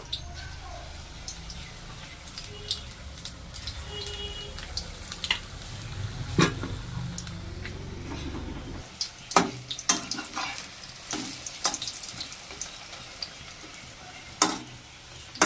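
Food sizzles and crackles in hot oil, egg-battered pieces puffing in the pan, with sharp spitting pops and clinks scattered over a steady frying hiss; someone talks intermittently nearby.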